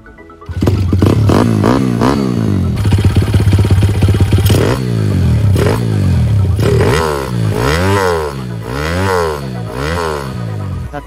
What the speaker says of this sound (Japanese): 人のいないとこに持ってきたんでエンジンかけてみましょうか